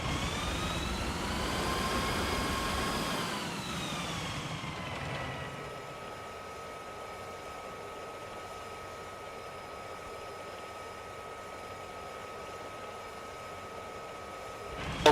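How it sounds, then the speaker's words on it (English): Helicopter rotor and turbine noise in the military game Arma 3, loud and whining at first, then dropping to a fainter, steady hum as the aircraft recedes. "I've got rotor noise coming from the southwest."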